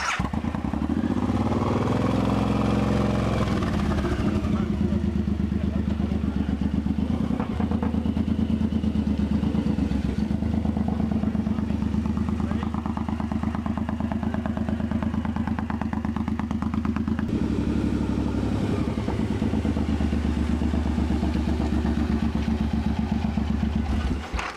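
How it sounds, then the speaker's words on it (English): A motorcycle engine runs continuously, a steady close rumble that revs up near the start and holds, with occasional clatter. "Ride the motorcycle."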